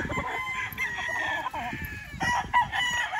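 A gamefowl stag rooster crows at a game farm in Batangas, giving several shrill crows among other fowl clucking, heard under nearby conversation.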